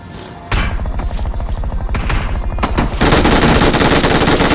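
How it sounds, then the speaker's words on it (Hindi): Rapid automatic gunfire from behind in a solo battle royale mobile shooter match, loud and close, with dense repeated bursts that grow heavier toward the end, no talking. "तभी पीछे के साइड से मेरे को गन साउंड आता है"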